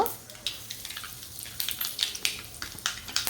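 Mustard seeds and asafoetida hit hot oil for a tempering, giving a faint, crackly sizzle with scattered sharp pops over about three seconds at close range.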